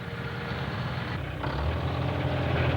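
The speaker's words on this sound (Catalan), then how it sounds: "va sentir un motor potent apropant-se per la carretera" Powerful new tractor engine fitted with a bulldozer blade, in a cartoon road scene, approaching as a steady low rumble that grows louder partway through, with no talk.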